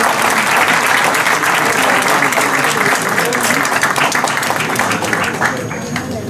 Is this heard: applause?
yes